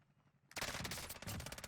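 Rapid gunfire in Warzone, a burst of automatic shots starting abruptly and continuing loud and close in quick rhythm.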